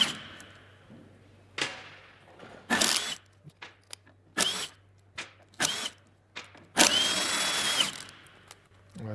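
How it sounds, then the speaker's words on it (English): Power driver undoing the five half-shaft screws on a Range Rover axle: several short bursts of whirring at close range, separated by pauses with light knocks and handling clatter. "Now there's 5 screws holding that on, so I'll undo those first of all."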